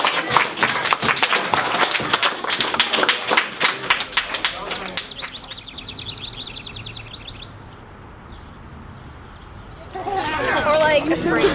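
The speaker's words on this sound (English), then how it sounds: "One more last round of applause for Mr. Gaynor, please." An audience claps for a presenter at a Grade 9 school presentation on a land use framework. The dense applause fills the first few seconds, then thins and fades, and voices come back in near the end.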